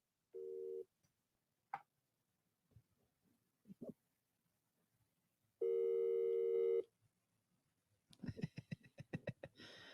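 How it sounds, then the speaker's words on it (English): A phone call placed before a live conversation: a short tone burst, then a long steady ringing or dial tone, followed by a rapid stuttering series of electronic pulses, with faint sounds between them. "So I'm gonna ring him."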